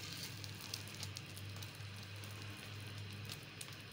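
A bread burger with egg frying in oil in a pan, a soft steady sizzle and crackle with a faint low hum underneath, quiet and continuous.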